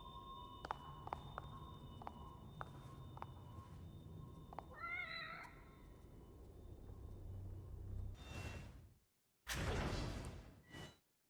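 Save-room cat in The Evil Within DLC meowing once in a short, rising-and-falling cry, quiet and midway through, amid sparse ticking game sounds, a low rumble and a couple of loud whooshing bursts near the end.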